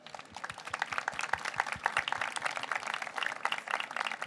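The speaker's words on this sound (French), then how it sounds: "Je pense qu'on peut les applaudir, merci à vous." Audience applause fills the hall at a plenary session of an impact summit: dense, steady clapping from many hands that stays loud and even throughout, with no voices over it.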